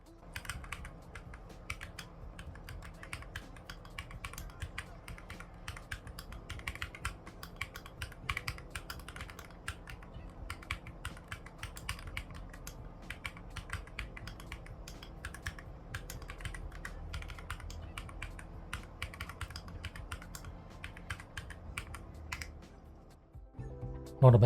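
An Epomaker Tide 75 mechanical keyboard typed on continuously with fast, even, close-up clicks and clacks, fairly quiet and alone, ending with a sharper knock.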